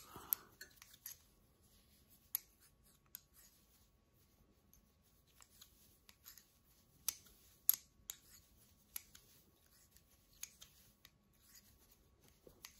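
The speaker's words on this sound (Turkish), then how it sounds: "Bu tarafı tersten kesiyoruz." Scissors snip through knitted fabric for a handmade cardigan, quiet close-up cuts coming in irregular clusters with short pauses between, alone without talk.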